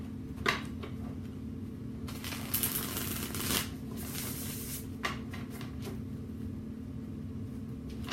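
A Wild Wood tarot deck is shuffled close up: soft, steady riffling and flicking of cards with a few louder bursts, over a low background hum.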